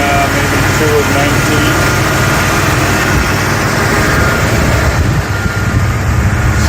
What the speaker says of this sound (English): Engine runs really smooth, sounds good.